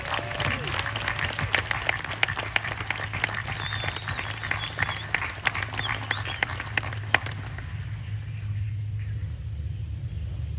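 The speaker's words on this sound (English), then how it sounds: "Ladies and gentlemen, please join me in a round of applause for our Student Award recipients." Applause from an audience at an Army War College graduation ceremony, dense steady clapping over a low hall rumble for about seven seconds before it cuts off into quiet room tone.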